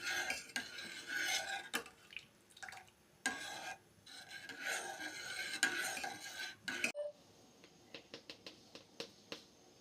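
Repeated scraping and clinking of a spoon stirring buttermilk inside a metal pot, in uneven bursts with short pauses, ending in quicker light taps.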